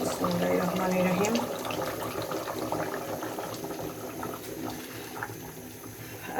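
Water pours into a cooking pot on the stove with a bubbling, splashing flow that is loudest at the start and slowly settles, while a person talks over it.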